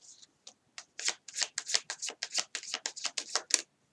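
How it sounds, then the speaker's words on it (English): A deck of tarot cards is shuffled by hand in a rapid run of crisp riffling snaps, close and fairly quiet, speeding into a steady flurry before stopping. "Got a lot of cards out on that shuffle."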